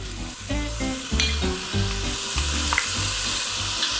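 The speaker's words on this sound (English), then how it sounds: "I'm gonna fry this for a few minutes before I add in my ground walnuts" Finely minced onions and grated carrots sauté in a pan for a Persian walnut stew, with a steady close sizzle and repeated rhythmic stirring scrapes and taps throughout.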